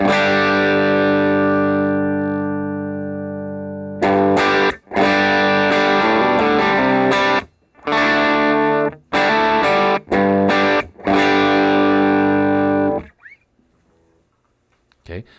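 An electric guitar played through a Line 6 Helix stock cab captured with a ribbon mic at about 2 inches, giving a long ringing distorted chord followed by loud rhythmic chugging bursts with short gaps before fading out.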